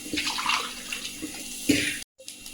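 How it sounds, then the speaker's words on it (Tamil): Tamarind water pours into a rasam pot, a close, gurgling splash lasting about two seconds before cutting off abruptly, followed by a faint trickle. "நம்ம புளி கரைச்ச"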